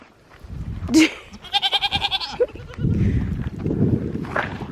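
A homestead goat gives one loud, close, wavering bleat with a rapid pulsing tremble, set against rustling and low background noise.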